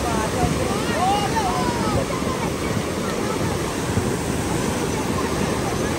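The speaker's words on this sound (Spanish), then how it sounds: "vean pues ese río como está" A swollen, rough river rushes loudly and steadily, a dense roar of churning water with wind buffeting the microphone throughout.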